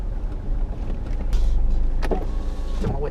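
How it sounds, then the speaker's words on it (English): A car's power window whirs shut in a short, close motor hum under a low engine rumble, ending with a faint thump as the glass seats. "Do my window up."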